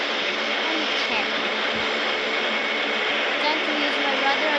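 Steady airplane engine drone in a flight video game, a broad even roar that holds at constant loudness with no break, speech faintly underneath.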